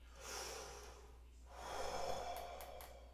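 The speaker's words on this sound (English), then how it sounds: "the same feeling you have when you take a breath in" A trumpet player breathes in and out slowly and audibly as a breathing demonstration, giving two soft, airy swells close to the microphone over a low steady hum, with no talking.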